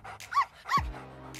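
A small dog barks twice in quick succession, short sharp yaps fairly close but quiet, followed by a fading low tail and near silence.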